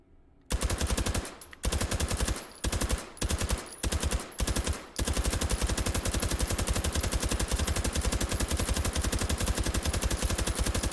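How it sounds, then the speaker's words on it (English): Rapid bursts from an integrally suppressed H&K MP5SD firing subsonic 9x19 ammo in the VR shooter H3VR, starting with several short clipped strings of shots and then one long sustained automatic burst, close and loud. "MP5SD series integrally suppressed subsonic 9mm using standard 9x19 ammo"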